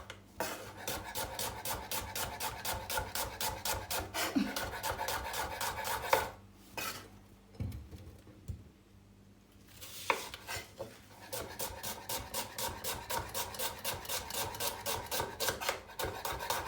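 Ingredients for chicken biryani are cut with steady, rhythmic knife strokes that scrape against a board, running in even repeated bursts with a short quieter pause midway.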